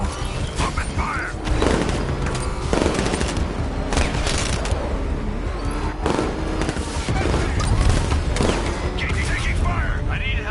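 Gunfire in the video game Batman Arkham Knight, dense bursts of shots and booms stacked over mechanical clatter and a constant battle din, loud throughout, with voices shouting in the mix.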